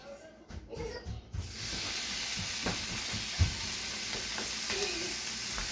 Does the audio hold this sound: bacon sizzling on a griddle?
yes